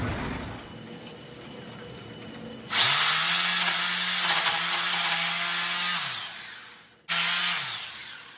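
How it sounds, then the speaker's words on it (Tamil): A power drill bores into a wall to mount a cloth-drying hanger. It is a loud, close, whining run of about three seconds, followed by a shorter second burst. "இது மார்க் பண்ணிட்டு ட்ரில் பண்ணிடுவாங்க."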